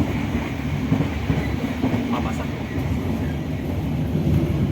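Economy-class passenger train of 100-seat coaches on the Jakarta–Jogja route running fast, a dense steady rolling roar with rhythmic clickety-clack of wheels over rail joints, heard close from inside the carriage.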